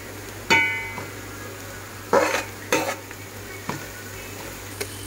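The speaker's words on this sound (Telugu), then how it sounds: "ఇప్పుడు తగినంత పసుపుని వేసుకొని కలుపుకుందాం" Chicken curry with green chilies fries in a pan under a steady low sizzle while turmeric is stirred in. Five or six distinct scraping and clanking stirs of a metal utensil ring out close and loud, with no talking.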